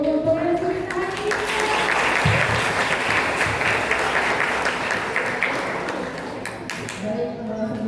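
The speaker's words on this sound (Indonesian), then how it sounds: "Tepuk tangan dulu untuk presentasi" Audience applause after a student motivational seminar presentation, a steady wash of clapping across the room for several seconds, with voices and speech mixed in beneath it.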